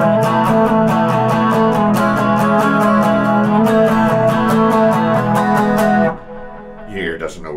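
An electric guitar plays a rapid, steady run of E-shape chord embellishments without ever returning to the base chord. The notes ring out for about six seconds before the playing stops abruptly.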